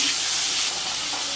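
Potatoes and pointed gourd sizzling in oil in a pan for a fish curry, a steady loud hiss close up that eases slightly partway through, with no talk.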